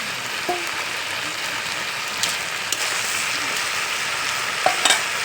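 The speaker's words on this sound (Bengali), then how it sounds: "এবার আমি নেড়ে দেবো। ভেজে রাখা মাছের মাথা" Fried fish heads are stirred into a Malabar spinach curry sizzling in a pan, a steady close frying hiss with a few sharp scrapes and clinks of the spoon.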